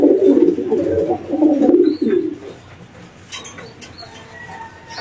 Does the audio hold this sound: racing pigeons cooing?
yes